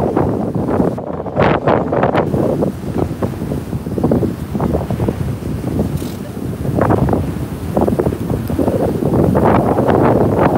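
Strong storm wind buffets the microphone outdoors in New York City during metal detecting, a loud continuous roaring rumble with surging gusts and no clear voices.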